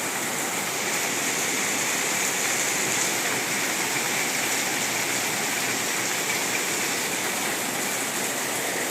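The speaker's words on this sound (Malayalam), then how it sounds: "നല്ല മഴയാണേ. ജാനിക്കുട്ടിക്ക് പേടിയാ, മഴയുടെ ഒച്ചയൊക്കില്ലേ" Heavy rain pours down in a steady, unbroken roar. The hiss is loud and close, with no pauses and no voices.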